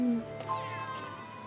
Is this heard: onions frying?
no